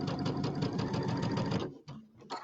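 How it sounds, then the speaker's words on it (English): A sewing machine, its embroidery unit removed, stitches quilt pieces in a loud steady rapid run, then stops and gives a few short bursts near the end. "It's easier to sew with the embroidery unit off."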